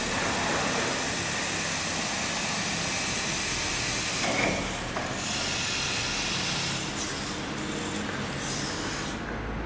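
A forklift mast rises and lowers under hydraulic power, giving a steady, broad hiss that holds through the whole stretch with slight dips midway.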